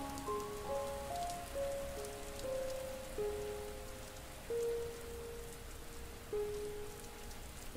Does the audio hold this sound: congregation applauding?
no